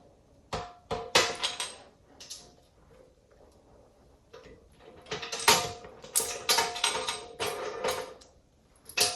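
Nuts on a lid being tightened down, heard as rapid ticking ratchet clicks and metallic rattles in uneven bursts, close and moderately loud, growing busier toward the end.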